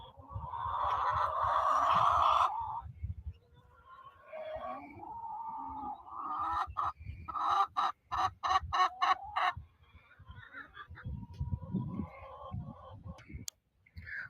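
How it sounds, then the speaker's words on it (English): Chickens cluck and squawk loudly and close by, in bursts of rapid repeated calls that rise and fall in dense runs over several seconds, with gaps of near quiet between the flurries. "the chickens are getting really loud"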